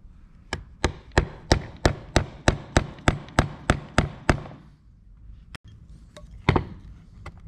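Light, evenly spaced taps wedge a part into place on a Ferrari electric fuel pump with a cast iron top and aluminum plate, about a dozen crisp knocks in quick succession, then a pause and a few scattered taps.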